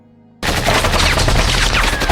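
Sudden burst of rapid automatic gunfire aimed at people in a forest near a cannabis field, loud and sustained after a brief quiet start, shots rattling densely without pause.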